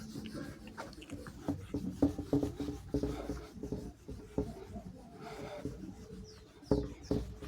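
Rubbing sounds as handwritten geometry equations are erased from a board, with uneven strokes of scraping and brushing, close and moderately quiet, with no talk.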